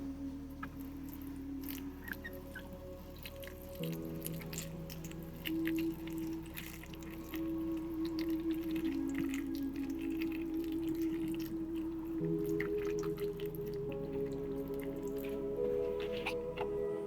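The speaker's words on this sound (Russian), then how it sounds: "Сейчас налью воду и будем поливать." Water trickles and drips as it is poured to water a potted orchid, a soft, steady splashing that runs on for many seconds under a faint low hum, close by and fairly quiet.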